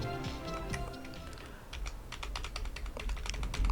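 Computer keys are pressed in quick clicks for a Ctrl+7 shortcut, a close run of crisp keyboard taps following a brief softer stretch, with no talking.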